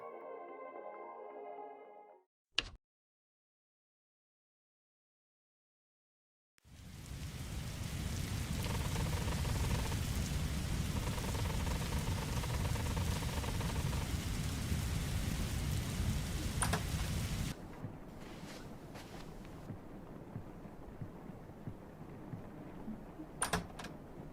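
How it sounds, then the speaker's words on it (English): In a Roblox horror game, a sharp click, a moment of silence, then heavy rain pours down in a dense, steady roar with low rumbling thunder before easing to a lighter patter. "We're forced to walk home while it's pouring rain."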